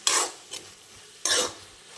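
Sliced onions with green chilli, coriander and torn bay leaf sauté in a pan for chicken biryani, heard as three brisk scraping stirs with faint sizzle between them, close and moderately loud.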